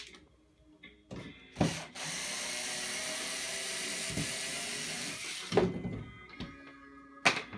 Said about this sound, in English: I'm gonna remove that screw because it's kind of getting in my way.